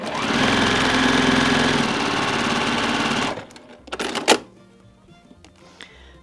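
Sewing machine stitching fabric for a quilt block runs in a steady, close mechanical whir for about three seconds, then stops, followed by a few soft clicks and handling noises.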